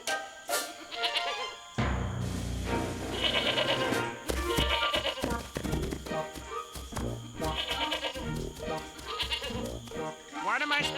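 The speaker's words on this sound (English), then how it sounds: "The goat!" A goat bleats several times in a wavering, nasal cry amid busy, layered sound that includes music and voices.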